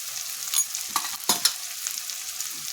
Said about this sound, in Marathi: हे सगळं आपण फ्राय करून घेऊया।